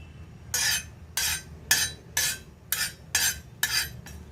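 Sesame seeds roasting on a hot tawa are stirred in about eight regular, evenly spaced scraping sweeps, each a short, close rasp of spatula on metal, with quiet gaps between them and no talking.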